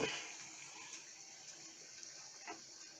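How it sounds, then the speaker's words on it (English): Water at a full rolling boil on a homemade camping stove, a faint steady hiss and bubbling wash with occasional soft pops, heard alone. "Right, full on boil."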